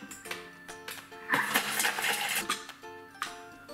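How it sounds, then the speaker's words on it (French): A Thermomix TM5 briefly whirs at speed chopping a garlic clove with parsley in its bowl, a short burst of blending framed by quieter mechanical clicks and hums. "Mettez la gousse d'ail dans le bol, ainsi que le persil. Et mixez le tout 5 secondes à vitesse 7."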